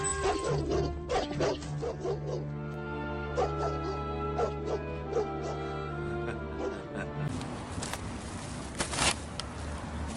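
A dog's yips and bow-wow barks, repeated and fairly close, over a steady droning background hum with a noisier wash toward the end.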